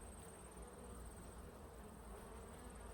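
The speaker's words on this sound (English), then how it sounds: "Some of them are fanning the hive, checking it out." Honey bees buzzing steadily around a hive as some fan at the entrance, a dense, continuous hum with a thin high whine, fairly faint and without talk.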